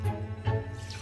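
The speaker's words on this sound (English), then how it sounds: "Wet the sponge, now wash the cups." Cups are washed with a wet sponge in a kitchen sink, with soft water running and a few gentle splashing and rubbing sounds over about a second.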